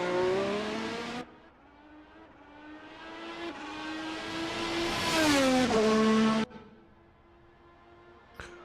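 Racing cars lapping the Imola circuit for the Emilia Romagna Grand Prix, a high engine whine rising in pitch through the gears and swelling as one car passes close, then cutting to a quieter, lower engine tone.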